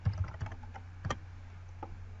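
Keys tapped on a computer keyboard while entering a web address, a quick burst of clicks at the start, another pair about a second in, then a lone faint tap, all over a low steady hum.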